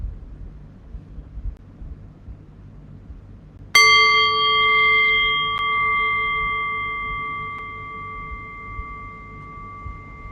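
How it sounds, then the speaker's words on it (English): During a guided meditation, a single meditation bell is struck once after near silence, ringing out clear and close with a long, slowly fading tone that lingers for several seconds. "in a few moments' time, I will ring the bell and I'll guide us in"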